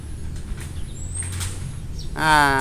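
A recorded swiftlet call: faint high chirps and tweets flit over a low background hum, then a louder burst of rapid, buzzy twittering arrives near the end.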